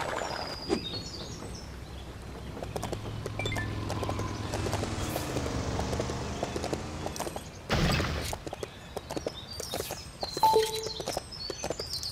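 Horse hooves clip-clopping at a steady walking pace in Lego City Undercover, with scattered bird chirps and a brief whoosh partway through.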